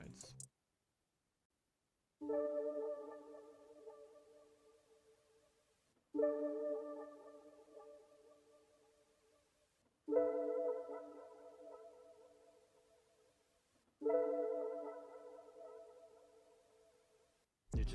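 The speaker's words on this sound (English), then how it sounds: "the last sound is the Cold Nights preset, and it's playing these notes" Four soft synth chords from the Cold Nights preset sound one after another at a slow, even pace. Each chord rings out and fades before the next, and the whole passage is faint.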